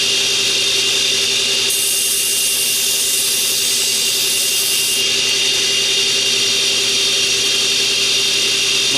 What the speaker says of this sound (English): All I do is just lightly grind the flat